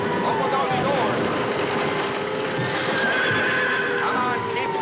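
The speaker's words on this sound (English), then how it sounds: "Get the horses out. Put them over the horseway." Horses whinny and neigh while hooves clip-clop as they are hurried out over a horseway in a wartime rescue scene, a busy, continuous mix with shouted voices and a low rumble underneath.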